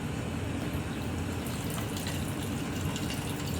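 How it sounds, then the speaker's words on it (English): Juice is poured off an opened can of salmon, giving a steady, close, continuous watery trickle and splash throughout with no talking. "I'm going to get the rest of that juice poured off of there."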